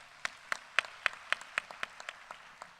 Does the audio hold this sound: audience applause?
yes